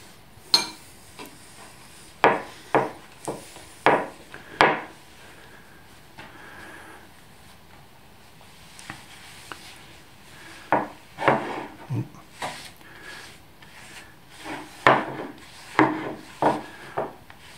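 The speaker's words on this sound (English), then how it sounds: "I've got this heart-shaped wooden bowl and I'm just going to see, it needs a good clean." A rag rubs homemade natural polish into a heart-shaped wooden bowl in short, scratchy strokes that come in uneven bursts, with quiet gaps between rounds of rubbing.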